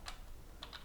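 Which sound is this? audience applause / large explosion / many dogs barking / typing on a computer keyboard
typing on a computer keyboard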